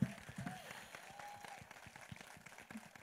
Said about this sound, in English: One big, huge round of claps, please.